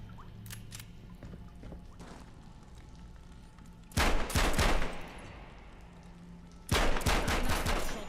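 Video game shooting tutorial with two loud bursts of rapid gunfire over a steady quieter game background hum, separated by a few seconds of lighter clicks, no talk.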